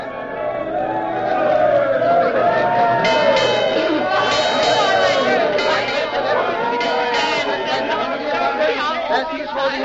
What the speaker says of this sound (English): I expect there's always a big crowd sailing, isn't there?